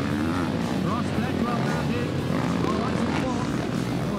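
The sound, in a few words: Yamaha 450 enduro motorbike engine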